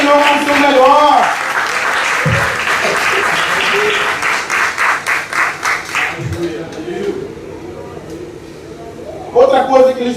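Church congregation applauding loudly, with a rhythmic clapping pattern emerging midway as the applause fades, and a preacher's voice speaking over it at the start and end.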